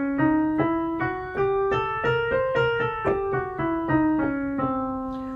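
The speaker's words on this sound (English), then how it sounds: "Octatonic scale is really interesting." An octatonic half-whole scale rises and falls on a sustained, tonal instrument, each note struck separately in a steady, even rhythm, about a dozen clear tones with rich overtones and no talking.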